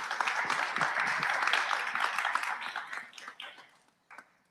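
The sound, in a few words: audience applause for a panel speaker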